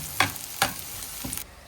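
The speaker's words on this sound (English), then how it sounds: "and stir fry all together" Tofu noodles stir-fried in a pan with black pepper, oyster sauce and spring onions: a steady sizzle punctuated by three distinct scraping stirs of the spatula at regular intervals.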